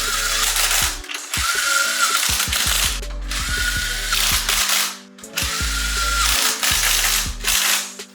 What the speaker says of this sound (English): that gun is set up to do a very low amount of torque. It's just for running bolts in and seating them.